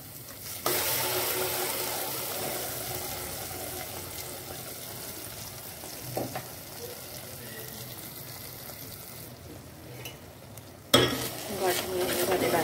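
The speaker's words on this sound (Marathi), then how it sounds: "पूर्ण असं तेल सुटेपर्यंत चांगलं हे भाजून घेणार आहे" Wet masala paste for a dried mackerel (bangda) chutney fries and sizzles steadily in oil while being stirred, with a few scraping knocks of the spoon and soft talk in the background.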